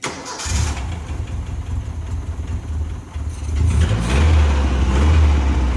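A Mercury Capri turbo engine cranks and catches, then settles into a steady idle through a new custom exhaust. The note is loud and close and becomes fuller and deeper after a few seconds.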